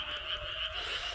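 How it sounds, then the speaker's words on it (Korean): Frogs croak in a rice field at night near Boseong, South Jeonnam, Korea, forming a steady, dense chorus that continues without a break and carries no speech. "개구리 소리 들리죠"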